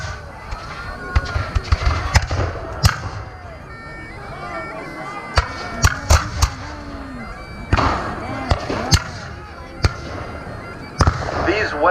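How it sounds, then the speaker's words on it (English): Black-powder muskets and rifles fire at a War of 1812 reenactment in Marion, Indiana: sharp, booming single shots ring out irregularly at close to middle distance, with crowd noise and talk between them. "They are legitimate muskets and rifles firing real black powder."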